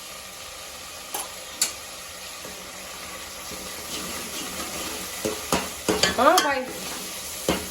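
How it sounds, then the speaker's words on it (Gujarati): Chutney is stirred into chole gravy bubbling in oil, giving a steady close sizzle with scraping spoon strokes that grow busier toward the end; a voice speaks briefly. "ગ્રેવી ચડી ગઈ ને તેલ આવી ગયું ઉપર એટલે હવે આપણે એમાં નાખી દઈએ ચટણી"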